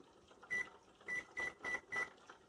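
Electronic beeps from a kitchen appliance timer being set, five short identical tones at uneven intervals, close and clear against a quiet background.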